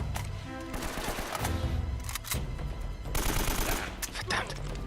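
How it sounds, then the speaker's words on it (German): Rapid machine-gun and rifle fire in the video game Uncharted, with several bursts of sharp cracks over about five seconds and a busy game background behind them. "ich schieße jetzt einfach mal über den Haufen"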